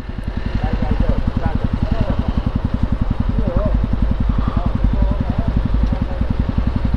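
A motorcycle engine running on a Himalayan mountain trail in the Manang area, a loud close rapid thumping beat that holds steady throughout, with someone talking over it.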